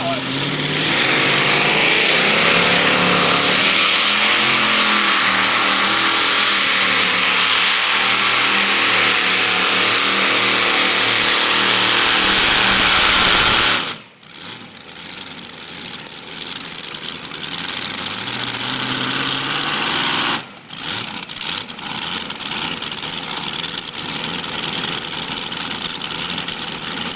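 A modified-class tractor-pull engine roars at full throttle, loud and close, then cuts abruptly before revving hard again, with an announcer talking over the din.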